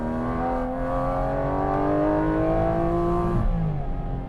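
Porsche GT4 RS sports car on a mountain road, its engine and loud induction noise rising steadily in pitch under acceleration from inside the cabin, then a brief drop at a gear change before climbing again.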